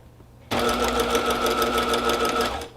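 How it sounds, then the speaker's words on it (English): A sewing machine stitches straight across fabric for a hot pad, starting abruptly and running at a steady, fast, even whir close by for about two seconds before easing off, with no talking. "Then I sew it."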